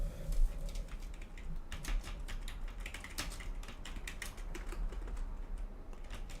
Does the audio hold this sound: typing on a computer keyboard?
yes